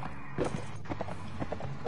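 Horse hooves clip-clop in the medieval combat game Mount and Blade Warband, a steady series of light, evenly spaced thuds at walking pace, moderately close with faint background sound.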